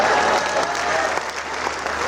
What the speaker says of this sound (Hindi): और तालियां इस बात पर चाहूँगा